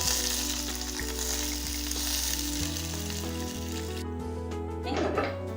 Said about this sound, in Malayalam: പിന്നെ നമുക്ക് കുറച്ച് കറിവേപ്പിലയും